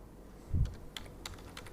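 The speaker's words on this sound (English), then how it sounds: "let us start typing something" A few soft keypresses on a computer keyboard, a brief quiet burst of typing heard close but faint.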